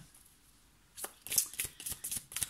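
Tarot cards are shuffled up close before a reading. After about a second of near silence, a run of quick, crisp riffles and card slaps follows in an uneven rhythm.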